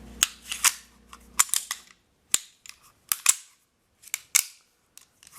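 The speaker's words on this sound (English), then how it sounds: "So we'll put our slide back on." The slide of a Sig Sauer P229 pistol is fitted back onto the frame, a close series of sharp metallic clicks and snaps with short scraping slides between them, spaced irregularly over a few seconds.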